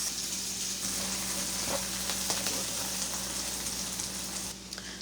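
Onions fry in a pan with a steady, close sizzling hiss, broken by a few brief clicks and stirring scrapes before the sound drops slightly near the end.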